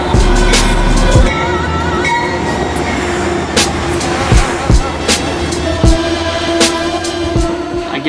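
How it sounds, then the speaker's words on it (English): A train pulls into the station at Poughkeepsie with a steady rumble and clanking, a low horn-like drone at the start, and sharp wheel squeals and clacks repeating as it draws near and slows. "I'm just waiting for the train to come into the station at Poughkeepsie."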